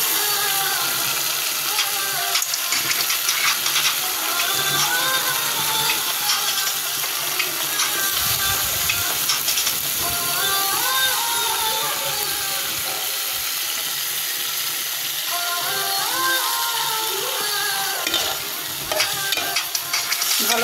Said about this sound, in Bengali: এই যে আমার মশলা কষানো হয়ে গেছে, ভালো করে নেড়ে চেড়ে নেব।